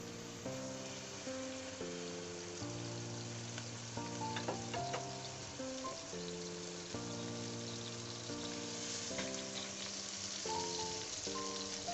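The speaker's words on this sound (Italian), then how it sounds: "Metto sale sulla padella, metto carne," Pork sizzles and crackles in a hot salted pan, a steady close frying hiss with small pops, while a bright tonal melody plays over it.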